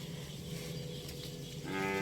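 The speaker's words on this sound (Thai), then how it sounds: "วันนี้เรามาพาชม ฝูงวัวพ่อเลี้ยงนะครับ" Cattle on a farm moo in the evening, one drawn-out low call rising near the end against a steady outdoor hum, fairly close and clear with no talk.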